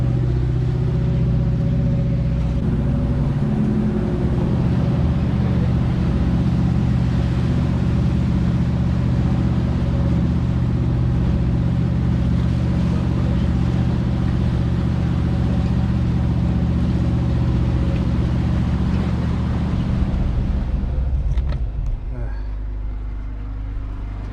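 A single boat motor drones steadily and loudly throughout on the Great Loop, a low, constant rumble that eases slightly near the end.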